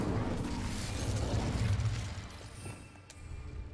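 Fire spell cast in the video game Hogwarts Legacy: a loud, roaring burst of flame that swells at once and rumbles on for a few seconds, then trails off into a softer crackle.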